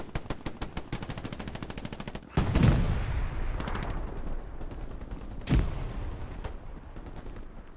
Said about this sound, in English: There's an MG on my ping.